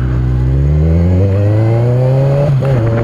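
A motorcycle engine, ridden while practising wheelies, revs up through the gears in a rising whine that climbs steadily. It drops briefly and picks up again at a gear change, loud and close, with wind noise and no talk.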